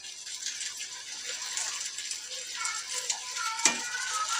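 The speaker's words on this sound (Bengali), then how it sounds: "আর এদিকে মাছ ভাজা হচ্ছে" Fish frying in a pan: a soft, continuous sizzle with faint crackles and one sharp tick near the end, quiet and with no talk.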